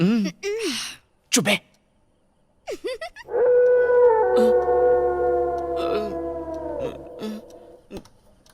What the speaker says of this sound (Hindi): भैया कुत्ता भौंक रहा है।